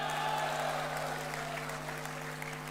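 Soft, thin applause from a political convention audience at the Barisan Nasional 2022 gathering, a dense patter of clapping that stays fairly faint and fades slightly over a steady electrical hum.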